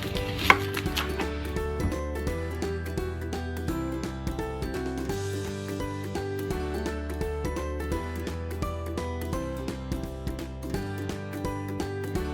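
Knife chopping a small onion on a board, a quick steady series of close, crisp taps over background music.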